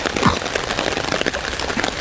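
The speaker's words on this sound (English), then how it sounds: "And our rain it's continuing." Steady rain patters across a hammock camp in the evening, a dense continuous hiss of drops with no talk over it.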